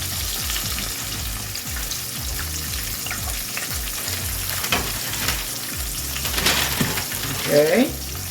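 Quail deep-frying in oil, a dense bubbling sizzle with rhythmic low thumps throughout, swelling louder toward the end, with a brief faint voice.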